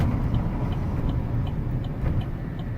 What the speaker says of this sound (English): I'm going to give the truck a nice hard brake at the bottom of this ramp